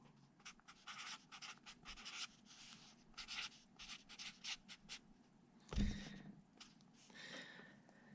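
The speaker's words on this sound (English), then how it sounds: "you're gonna start off by sketching lightly with your pencil" Graphite pencil sketching lightly on paper for a bark drawing, a quiet run of short scratchy strokes in an irregular rhythm, close and faint, with one brief louder bump midway.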